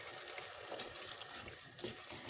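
Water poured into a slow cooker pot holding lentils, celery, red pepper and carrots, a steady soft splashing stream heard close but faint, with no voices.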